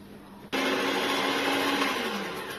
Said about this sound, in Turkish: Daha iyi ezilsin diye blenderdan geçirdim.